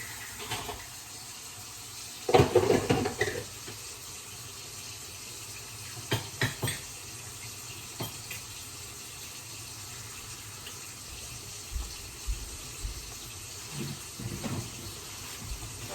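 A kitchen tap runs steadily while something is washed under it, with soft clattering bursts and splashes now and then against the continuous water flow.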